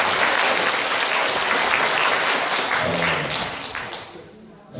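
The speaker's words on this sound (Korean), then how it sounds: "선생님도 위험하면 박수 한번 치고 시작해요" An audience at a Korean volunteer-center lecture claps steadily and loudly for several seconds, the dense applause thinning out near the end.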